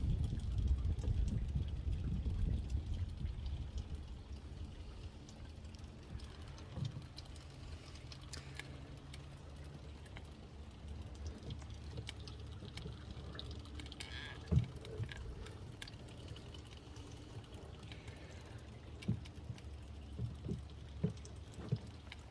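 Water runs from a hose into a barrel while a radial flow settler solids filter for a fish pond is cleaned, giving a low, continuous outdoor rush and patter with scattered splashes and drips, heavier at the start, with no voices.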